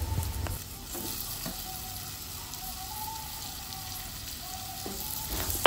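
Chopped tomatoes stirred and fried in a pan with ginger paste for an egg and potato bhuna, a steady soft sizzle with intermittent scraping stirs, close and moderately quiet, no talking.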